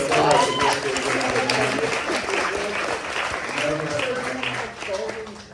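Audience applause at a talk event for Patti Smith's Horses, steady clapping across the whole stretch with voices and cheering mixed in.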